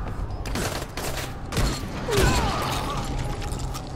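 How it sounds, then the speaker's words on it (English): Enemy gunfire from an outpost in Dying Light, several sharp bursts of shots at mid distance with creaking mechanical sounds between them. "They're always shooting as I go past"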